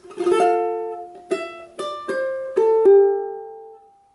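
A ukulele plays the closing phrase of a song: a strum followed by a few plucked notes, ending on one last note that rings out and fades.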